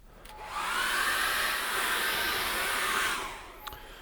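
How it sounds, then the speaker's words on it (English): A hair dryer switches on and blows with a steady, loud whoosh for about three seconds while drying acrylic paint, then cuts off, leaving faint clicks. "I'm going to dry that off with a hairdryer."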